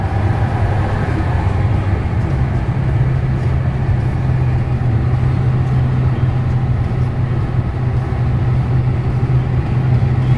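A turbocharged Ford F-150 truck climbs a steep mountain grade in Colorado, its engine a loud, steady low drone with a constant whooshing roar and no talk.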